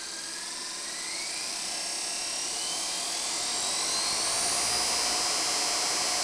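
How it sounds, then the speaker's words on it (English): An electric motorcycle conversion with a Magura electronic throttle, motor spinning up with no load into a steady, loud high-pitched whine that climbs gradually, heard alone. "Magura electronic throttle, and we can give it a little twist,"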